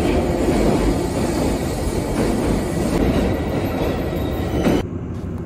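A JR Kagoshima Main Line train heading toward Hakata, heard from onboard as a loud, steady rumble of wheels and carriage with faint rail clatter, dropping abruptly near the end.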